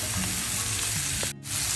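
Chopped radish sizzles as it fries in a pan with chana dal, a loud close crackle with a couple of stirring knocks and a brief dropout near the end.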